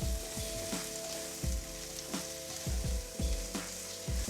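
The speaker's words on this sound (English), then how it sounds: "Just hit the zucchini, give it a toss while my sauce is still heating through" Zucchini sizzles steadily in a hot pan, with a sharp scrape-and-clatter burst each time it is tossed. There are about a half dozen such bursts over the frying hiss, close and fairly loud, with no talk.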